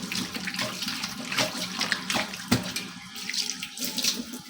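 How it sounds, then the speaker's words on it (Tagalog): Tap water runs into a kitchen sink while used utensils are washed, a steady close splashing stream with occasional clinks and knocks, with no speech. "Hugasan ko yung aking ginamitan dito."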